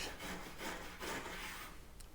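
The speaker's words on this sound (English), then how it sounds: "we're going to take the wire brush now, and we're going to clean that out as best we can" A wire brush scrubs rust along the back edge of a Mercedes W123 240D body, giving a steady, close rasping scrape with brief surges, alone with no talk.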